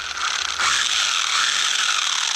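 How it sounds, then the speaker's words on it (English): Drivetrain of a Rlaarlo AM X12 RC car whines loudly up close, a ratcheting mechanical gear grind that jumps to a harsher, steady high whir after a moment. "that is a very loud drivetrain"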